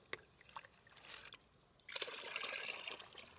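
Diluted liquid fertilizer swirls and sloshes in a container of water as it is stirred for feeding carrots, a soft trickling that grows into a steadier splashing churn.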